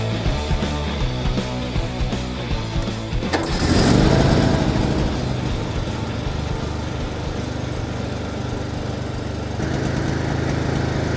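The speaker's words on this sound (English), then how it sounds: "no one really wants to watch me drive around in a lawn tractor" A small lawn tractor engine, jump-started, sputters and then roars to life, settling into a loud, steady running drone up close that continues throughout.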